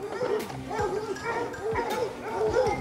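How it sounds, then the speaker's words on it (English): Several dogs barking and yipping in quick, repeated bursts with whimpers between them, close and fairly loud, with a steady background hum underneath. "Crazy dogs."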